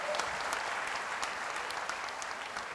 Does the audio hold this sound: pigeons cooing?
no